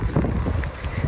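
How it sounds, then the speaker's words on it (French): Cold winter wind buffeting the microphone outdoors, a steady low rumbling roar that fills the whole moment, with no voice over it. "Il y a trop de vent, il fait froid"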